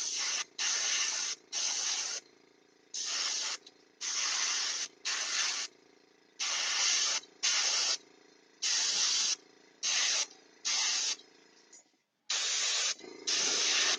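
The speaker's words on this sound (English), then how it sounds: "we're going to put that on, spray it downwards" Spray paint undercoat going onto a tabletop miniature figure, sprayed downwards over the whole model: a series of about fourteen short, loud hissing bursts separated by brief pauses, close to the microphone with no talking.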